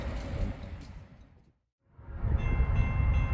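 Rumbling rail noise from a CSX freight train on an eastbound track near milepost 309 in Brutus, New York, in December fades down to near silence, then swells back louder and closer.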